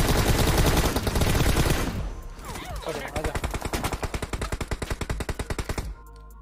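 Gunfire from a prone shot in a battle royale video game: a dense burst of loud shots, then after a short gap a rapid, evenly spaced automatic volley that stops abruptly.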